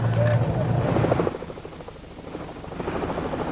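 A police helicopter's rotor thrums overhead at a distance, a low pulsing drone that rises and fades, with people talking over it.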